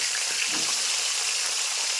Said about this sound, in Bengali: এখন ওই মাছ ভাজার তেলে মা এখন বেগুনটা ভেজে নেবে